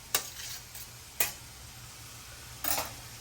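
Sausages frying in a pan are stirred, with a steady soft sizzle underneath and three sharp scraping clacks of a utensil against the pan, close and clear, with no talk.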